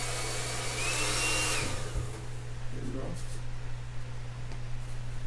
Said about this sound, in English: the dryer's going to automatically put it on a nice warm temperature